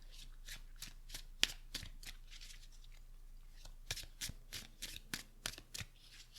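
Tarot cards being shuffled and drawn close up: a quiet, continuous papery riffling with crisp flicks and snaps of individual cards, growing busier toward the end, with no talking.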